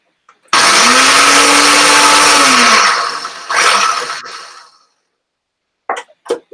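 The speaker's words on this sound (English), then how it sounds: "I'm going to add 2 strips of the lemon peel in with the flowers, and I'm going to grind it all up." A blender grinds chamomile flowers and lemon peel, a loud close whirring roar that runs for about two and a half seconds, tails off, pulses briefly again and stops, followed by faint voice sounds.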